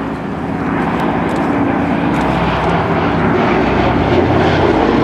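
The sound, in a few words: Boeing B-17 bombers flying past at air show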